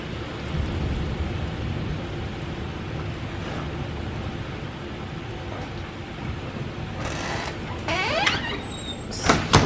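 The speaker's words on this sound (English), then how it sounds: "Torrential rain." Torrential rain pours down during a severe thunderstorm in Independence, Missouri, a constant heavy hiss with low rumbling thunder beneath it, and a few sharper creaks and squeaks near the end.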